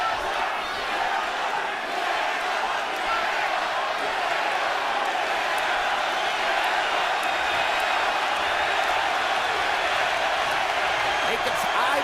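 A Madison Square Garden crowd at a boxing fight, a dense, steady roar of many voices that swells slightly toward the end, continuous and enveloping.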